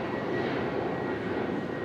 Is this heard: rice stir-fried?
no